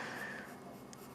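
A 4B pencil shades across paper, making a soft, faint scratching rasp that fades after a brief stroke, heard alone and close.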